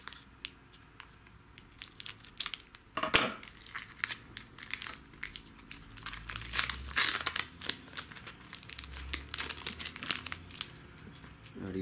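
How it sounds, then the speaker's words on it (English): Crinkly foil Pokemon card booster packs being handled and opened, with steady close rustling and crackling across the whole stretch, several sharper crunching bursts, and occasional soft speech underneath. "the packs are a little bit sort of like, actually going to be hard to cut open."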